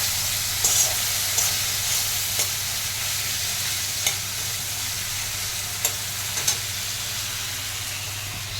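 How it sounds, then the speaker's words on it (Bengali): Prawns frying in a pan give a steady close sizzle and hiss with faint occasional crackles and pops, with no voices. "চিংড়ি মাছটা ভাজা হচ্ছে।"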